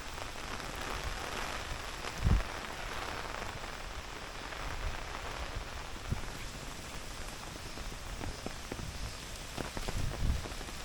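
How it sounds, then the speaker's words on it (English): Light rain patters softly and steadily on nearby surfaces on Enoshima island near Tokyo, with a few louder drops or bumps scattered through the hiss. "Looks like it's starting to rain again now. Well, sprinkle, not really rain."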